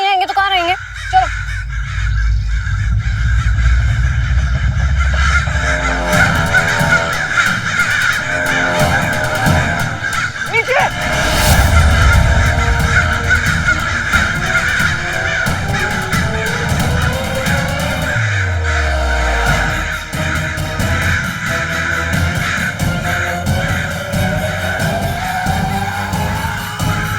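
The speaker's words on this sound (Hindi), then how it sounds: "कितने सारे कौवे, हमें यहाँ से भागना होगा।" Many crows caw loudly and continuously in a jungle, mixed with screeching, skidding effects and rushing noise. Voices break in over the racket.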